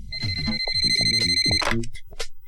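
A telephone rings with a steady electronic tone while several people talk over it, then the ringing stops and the voices continue.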